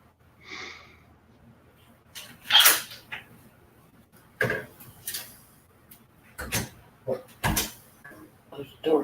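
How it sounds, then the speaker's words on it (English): Noisy doors in a house on a cold day, opened and closed several times, giving scattered knocks, creaks and thuds between stretches of near silence and faint background sounds. "Those doors are so dang noisy."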